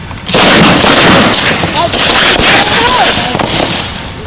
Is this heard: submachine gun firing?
yes